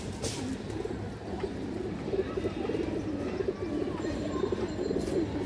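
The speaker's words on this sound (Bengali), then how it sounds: "সুপার ফ্লাইয়ার কবুতর দর্শক" Super flyer racing pigeons coo softly in a low, wavering murmur within a loft, the sound faint and continuous beneath a muddy background hum.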